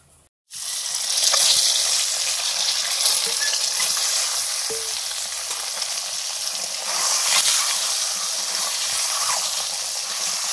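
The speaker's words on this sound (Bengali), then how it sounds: "ডিমটা ভেজে নেব, সর্ষের তেল দিলাম।" Eggs coated with salt, turmeric and a little chili powder fry in hot mustard oil in a pan. A loud, steady sizzle starts abruptly and crackles on continuously near the microphone, with no voices.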